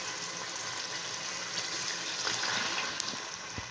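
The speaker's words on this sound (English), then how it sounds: "let's add water." Water poured into a soup pot while cooking in a rural Nigerian village kitchen, a steady broadband splashing gush lasting several seconds at moderate level, with no talking.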